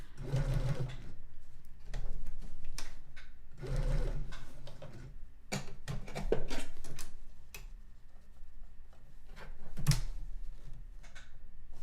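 A domestic sewing machine stitches the corners of an hourglass star quilt block, coming in bursts of rapid mechanical ticking separated by short pauses and handling clicks, at moderate volume with no talking.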